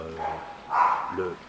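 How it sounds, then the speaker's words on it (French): A dog barks a few short, sharp times at moderate distance, the yaps separated by brief pauses. "Ah, ça c'est le chien."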